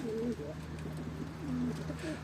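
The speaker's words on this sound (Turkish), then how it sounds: "kuş da geldi oynuyor üstümüzde" Pigeons coo in a soft, repeated pattern nearby, with low rumbling background noise throughout.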